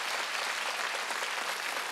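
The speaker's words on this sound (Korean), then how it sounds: "박수 칠려면 치고 가니까." Congregation applause during a Wednesday church worship service, a continuous dense wash of clapping from many hands, steady and fairly loud for its short length with no talk over it.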